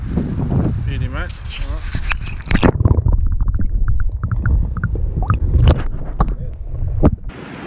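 Gusty wind buffets the microphone with heavy low rumbling in the New Zealand backcountry while trout fishing, as people talk over it close by.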